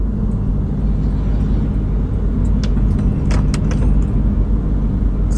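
A Porsche 911 driving uphill toward the Mittertörl tunnel on the Grossglockner road at over 2300 metres, with a loud, steady engine and road rumble throughout and a few sharper ticks and clatters midway.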